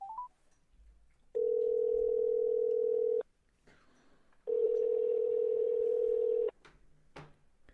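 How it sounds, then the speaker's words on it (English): A telephone dial tone sounds as a call is placed: two long steady tones separated by a short gap, followed by a few faint clicks on the line. "Let's give Rich Mitchell a call first"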